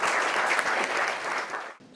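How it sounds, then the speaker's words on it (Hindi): Warm audience applause greets a panelist at an education discussion event, a steady burst of many hands clapping that fades out near the end. "तो मैं ज़ोरदार तालियों से एक बार फिर से उनका स्वागत करना चाहूँगी।"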